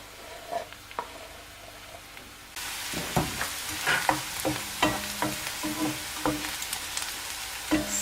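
Onion sizzles and crackles in olive oil in a pan for a vegetarian ravioli filling, starting faintly then jumping to a steady close fry with stirring clicks and pops throughout.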